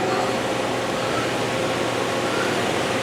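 A machine spindle fitted with a 10-inch three-jaw chuck runs at 2,000 RPM, giving an even, unbroken whir and hiss at steady volume with no voices over it.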